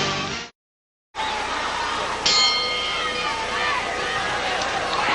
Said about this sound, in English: The bell has just sounded.